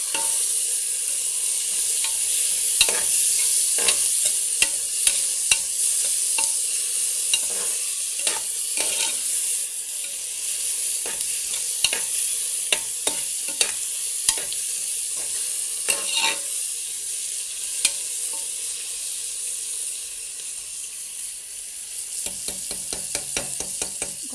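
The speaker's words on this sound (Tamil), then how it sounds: "தக்காளி போட்டு நல்லா வதக்கிட்டுக்கோங்க." Tomatoes sautéing in a pan for tomato rice, with a steady close sizzle and a scattering of light scraping and clinking stirs throughout.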